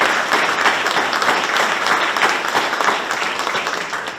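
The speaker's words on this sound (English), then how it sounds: "Please give her a round of applause" An audience applauds a district director for Assemblyman Jim Patterson at a sign dedication, a dense, steady wash of many hands clapping that holds loud and even throughout.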